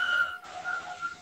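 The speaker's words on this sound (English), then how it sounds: "No, it's just hoovering." A household vacuum cleaner runs in the background as a steady, tonal whine. It holds a sustained pitch for about a second, with no talk over it.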